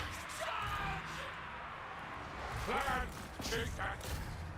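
Artillery fire in a Total War strategy game: a busy battlefield wash of repeated cannon thumps and impacts, swelling near the end, with someone talking over it.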